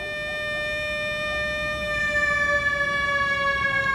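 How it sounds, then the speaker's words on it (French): Wartime air raid sirens wail together in a steady, sustained drone, loud and unbroken, with a faint rumble of background noise beneath and no voices. "Certains soirs, on faisait fonctionner les sirènes"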